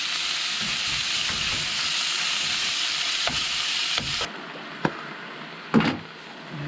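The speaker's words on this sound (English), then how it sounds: "Brown that meat, baby" Meat browning in a camp pan at a Mojave desert campsite, a loud, close, steady sizzle that drops sharply partway through, followed by a few utensil clacks and scrapes.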